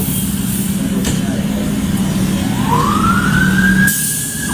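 Meridian Fire Department engine siren wailing as crews head out to a call during severe weather, a rising tone sweeping up and holding steady over a constant low engine rumble and background noise, heard from inside the station.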